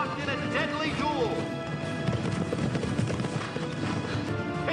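Racehorses Secretariat and Sham gallop hard in a race, hooves drumming in a rapid clip-clop rhythm under an excited commentator's voice and crowd noise, with a whinny rising briefly.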